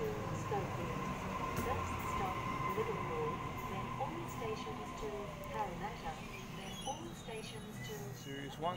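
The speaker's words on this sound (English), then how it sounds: "Series 1 set A66 now departing from platform number 1 for a Schofield service" A Series 1 A66 electric suburban passenger train departing a platform on a Schofield service, a low rumbling motor hum with rising whine and some squeal, under a loud platform announcement.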